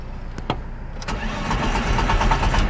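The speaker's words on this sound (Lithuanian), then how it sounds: "kaip čia jisai sunkiai kuriasi, nes nieko aš dar kol kas nežiūrėjau." BMW E30 with a 2.5-litre engine cranking hard before catching, a faint starter click early on, then a rising, rough engine roar that holds at a steady idle, close and fairly loud.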